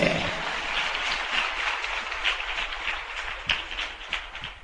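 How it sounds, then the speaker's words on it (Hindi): A church congregation at an Odia Christian sermon claps together, a faint, dense, even patter of many hands continuing steadily without any voices over it. "ताली मारो जोर से"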